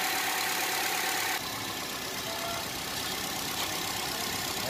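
A Hyundai i10 car engine idles smoothly and steadily after repair, with a new cylinder head and battery, giving a close, constant hum that drops slightly in level partway through, with no talking.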